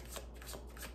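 Tarot cards being shuffled, a quick run of soft riffling, flapping bursts, close and quiet, with no talking.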